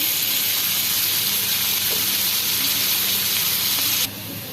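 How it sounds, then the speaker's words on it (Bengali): Onions and green chilies fry with cumin in hot oil, giving a loud, steady hiss and sizzle close to the pan that drops off suddenly in level near the end. "এইগুলো ভালোভাবে ভেজে নিতে হবে সাথে জিরা অ্যাড করলাম"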